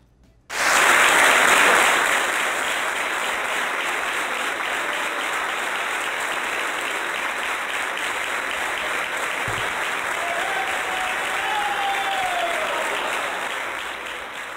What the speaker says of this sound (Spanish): ellos están aplaudiendo ahí a dos muertos, a Simón Bolívar y a Chávez